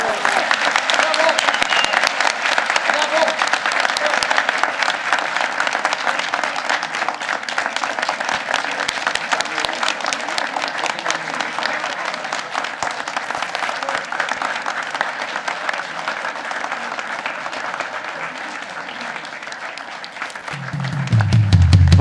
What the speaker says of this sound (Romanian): vă rog să-i aplaudați din suflet și să le urați succes